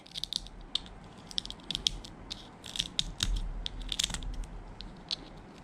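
Scissors or a blade crunch through the hard shell edge of a crab's head, giving a run of sharp, close clicks and snaps in irregular bursts against a soft background hiss.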